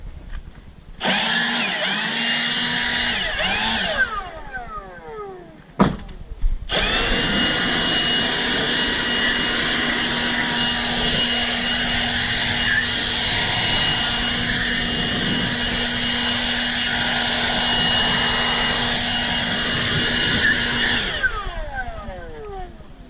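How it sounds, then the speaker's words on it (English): A loud air blower blasts dirt out of a car or truck interior, starting up with a rising whine, cutting out briefly, then running steadily before winding down. "I'm just going to start blowing one direction to blow it out"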